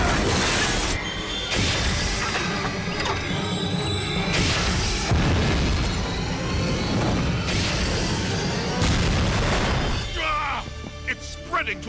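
Spaceship fleet opening fire in an animated science fiction series, a dense continuous barrage of crashing blasts and booms with scattered shattering cracks, loud throughout, with voices shouting over the battle.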